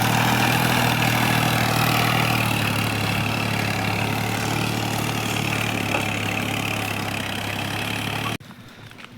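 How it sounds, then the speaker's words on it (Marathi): A tractor engine on a farm runs steadily with a low, throbbing drone, close and loud, as the tractor is driven fast, then cuts off abruptly near the end. "किती फास्ट मारतोय हा ट्रॅक्टर"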